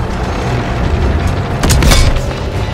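A tank cannon shot and explosion in Call of Duty WW2, a heavy boom and rumble that swells briefly over continuous low engine and battle noise, close and loud.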